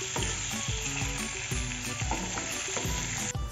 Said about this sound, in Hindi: इससे क्या होगा हमारा पनीर जो है वो फ्राई हो जाएगा